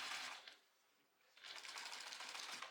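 A sewing machine back stitching on a fabric zip folder, a close whirring run that pauses briefly and then resumes steadily, fairly quiet.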